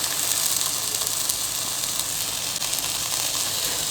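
Beaten eggs hiss and sizzle steadily in a hot pan for Tamil egg podimas, a loud, dense, even frying sound with no pauses and no voices.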